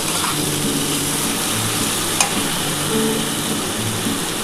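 A ginger-cumin spice paste fries in a pan for a fish curry, producing a constant dense sizzle with occasional stirring scrapes and one sharp clink of a utensil, close and steady, without speech.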